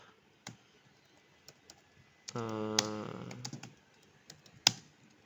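Scattered clicks of a computer keyboard tap irregularly at close range, with a brief tonal hum in the middle and a sharp louder click near the end.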